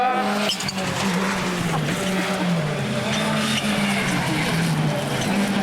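A rallycross car at a 2008 French championship round in Lavaré slides near a spin, its engine roaring loudly and continuously with tire scrub, while a commentator talks excitedly over it.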